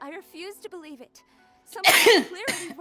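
A sharp, loud sneeze bursts out near the end, right after a stretch of plain speech, with some voiced sound trailing after it.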